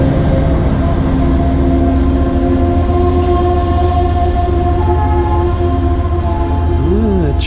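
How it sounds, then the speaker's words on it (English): Train pulling into a station beside a trestle, a loud steady rumble with long sustained tones of wheels and brakes, and a brief rising-falling tone near the end. "the train just pulled in"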